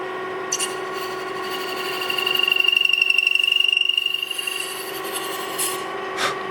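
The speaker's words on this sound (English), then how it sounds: "I'm going to use a skew chisel for what I would use for wood turning, for scraping a piece of wood like that and making a contour" A skew chisel scrapes and contours a piece of wood spinning on a mini lathe, giving a steady rasping, whirring drone that swells in the middle and then fades, heard alone without talk.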